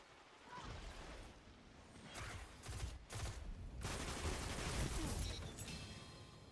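Gunfire from a shotgun in the online shooter Destiny 2 during a competitive zone-capture match: several loud, close blasts and bursts in quick succession amid game effects, with a voice talking faintly beneath.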